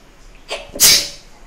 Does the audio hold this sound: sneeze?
yes